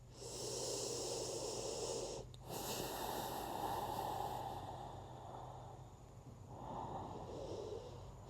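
Slow, deep breaths during a gentle morning yoga practice, long airy inhales and exhales close to the microphone with brief pauses between them, no talking.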